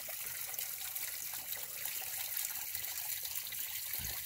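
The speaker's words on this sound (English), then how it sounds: "It freezes my hand just splashing as I'm pulling up the water bottles." Cold stream water along the Pacific Crest Trail near Snoqualmie Pass splashes and trickles steadily, close and continuous, with bottles being filled and no voices.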